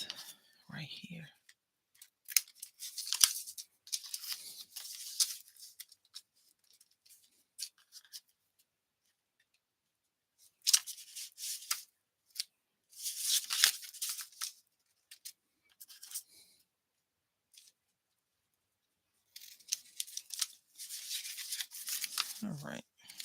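Scissors snipping paper to trim a stamped craft tag, close and quiet crisp cuts in several short bursts separated by silent gaps.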